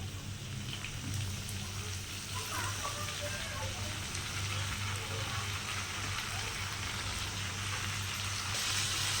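Four large cut tomatoes sauté in a pan with a steady, even, rain-like sizzle that runs the whole time. Talk is faintly present.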